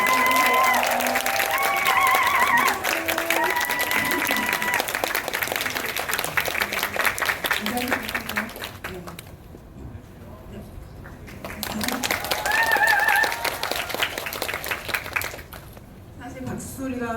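A cinema audience at a Crime City 3 screening Q&A claps to welcome the director and actor, sustained crowd applause with some cheering, dipping midway then swelling again, while a host's amplified voice talks over it.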